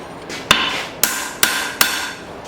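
A cross peen hammer strikes an old file being forged, four sharp, ringing metallic blows landing about half a second apart, close and loud, with a bright ring after each hit.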